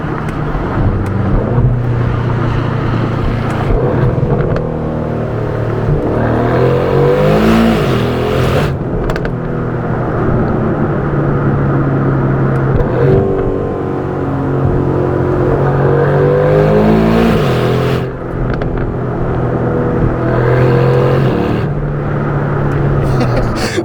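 2024 Aston Martin DB12 with a 671 hp engine accelerating hard on public roads, a loud continuous engine drone that repeatedly rises and falls in pitch through gear changes, with wind rush throughout.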